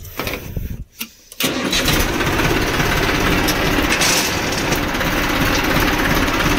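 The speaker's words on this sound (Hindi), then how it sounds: "और उसके बाद में आपको करना है ट्रैक्टर चालू।" A tractor engine sputters and catches after a brief pause, then runs at a loud, steady idle close by.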